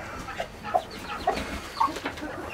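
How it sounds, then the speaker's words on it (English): A chicken clucks in short, close bursts, several separate clucks spread across a busy farmyard background with other birds faintly present. "Why is the chicken hurting the duck?"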